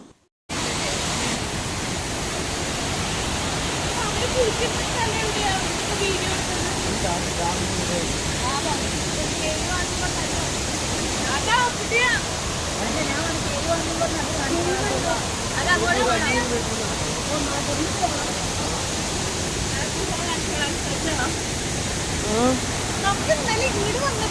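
The Chilandhiyar waterfall, swollen by heavy rain, roars as a loud, steady wash of rushing water, constant and close throughout, with faint voices under it.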